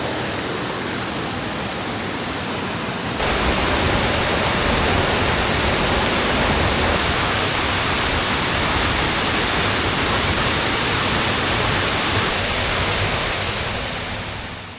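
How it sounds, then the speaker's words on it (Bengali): The Reling river flowing at dusk, a loud, steady broadband rush of water that swells abruptly after a few seconds and continues unbroken to the end. "আর এই যে রেলিং নদী বয়ে যাচ্ছে"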